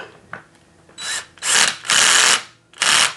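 A power driver or ratcheting tool tightens screws on a Xiaomi Hover1 electric scooter during tire and tube replacement, producing several loud close whirring bursts with short pauses between them.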